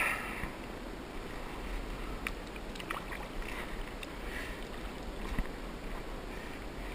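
A paddle working a small boat during winter bass fishing, with soft close dips and swishes of water and occasional light knocks against quiet still-water ambience.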